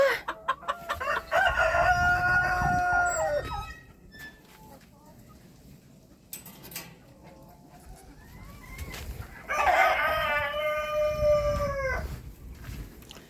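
A rooster crows twice, loud and close, amid clucking bantam hens and brooding hens in a farmyard coop, with a person talking quietly between the calls.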